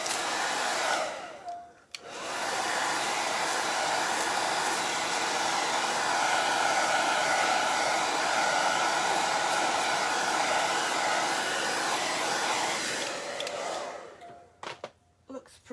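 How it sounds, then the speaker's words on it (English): A hairdryer blows steadily on a clay pot being dried for a craft project, a loud continuous whoosh that cuts out briefly near the start, then runs for about eleven seconds before clicking off. "I'm just going to give it a quick dry with the hairdryer."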